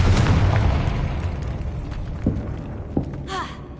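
Confringo blasting spell explosion in the game Hogwarts Legacy: a loud opening blast with a rumbling tail, followed by two sharper pops a second or so apart, then a rising magical shimmer near the end.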